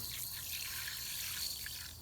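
Water trickles steadily from a pour onto a potted fig cutting, draining into a saucer set beneath the container, a continuous close splashing dribble without talk.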